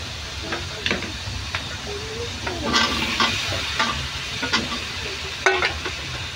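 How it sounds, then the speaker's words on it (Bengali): Potatoes being stirred and fried with spice masala in a pan, giving a steady close sizzle and hiss broken by repeated scraping and clinking strokes of a spoon. "মশলার সাথে আলুগুলো ভালো মতো কষাবো।"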